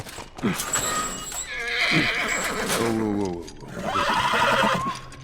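A horse in the video game The Last of Us whinnies loudly several times in quick succession, with hoof clip-clops and some background activity mixed in.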